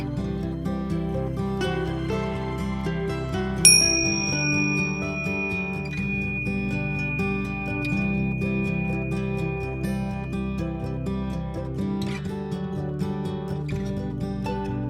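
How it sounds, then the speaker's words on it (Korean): A meditation bell rings out once, a clear high tone that lingers over soft ongoing background music until it gradually fades. "종소리와 함께 명상을 마무리합니다"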